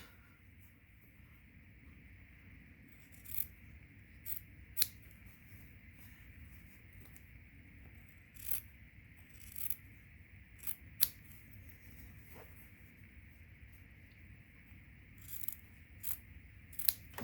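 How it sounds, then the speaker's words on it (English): Scissors snip along the fabric edges of a homemade face mask with a filter pocket, trimming on a slant; scattered sharp cuts, some in quick pairs, stand out close and clear over a low steady background hum. "I'm gonna trim the edges like on the slant"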